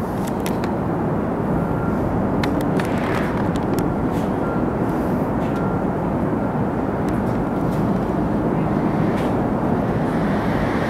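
Strong wind buffets the microphone high atop the Willis Tower skyscraper behind an open screen, a steady loud rumbling roar that runs the whole time with no talking.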